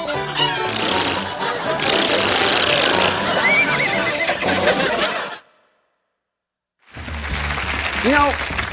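A loud, shrill horse whinny with chattering, laugh-like sounds, cut by a brief silence, then another rising neigh.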